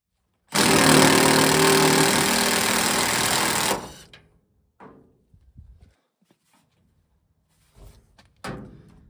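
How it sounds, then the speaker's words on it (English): A power tool whirs loudly and steadily for about three seconds while backing bolts out of the seat of a 50-year-old Ford F-250 truck, followed by a few scattered clunks and thumps. "let's go ahead and take these bolts out and get this sucker pulled out"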